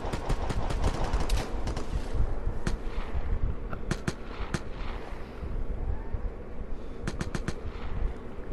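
Gunfire in the VIGOR video game crackles constantly, with dense bursts of shots and sharp cracks, some close and loud and others farther off, and no voices over it.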